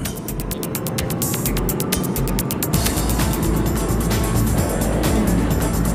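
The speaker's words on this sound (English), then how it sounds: "Traveling up and down the dunes in an all-terrain vehicle is quite a thrill." An all-terrain vehicle runs over desert sand dunes, its engine a loud continuous throbbing drone with rapid rhythmic clicking pulses early on, close and dominant throughout.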